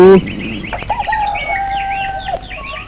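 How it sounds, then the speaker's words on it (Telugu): A rooster crows loudly and close by, one long drawn-out call that rises and holds before trailing off, with a brief clucking sound just before it. "కోడి కోత వేసేసింది"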